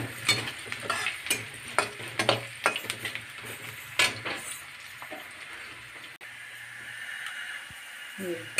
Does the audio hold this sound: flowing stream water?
no